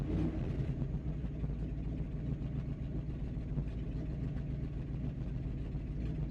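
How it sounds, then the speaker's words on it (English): A 1979 Dodge W150 Roundup pickup, run again after sitting for over 15 years, idles cold just after starting: a loud, steady, slightly uneven engine rumble that continues without a break. "Is she gonna idle?"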